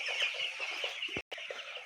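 Broiler chickens kept on a raised slatted platform cluck in a continuous, busy flock chatter, close and fairly faint, with no talking.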